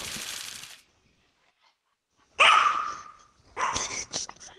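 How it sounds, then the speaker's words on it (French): A dog barks in several loud, close bursts of rapid yapping, with a brief opening burst followed by a quiet gap and then two longer barking spells; no one speaks. "y'a un chien qui jappe là"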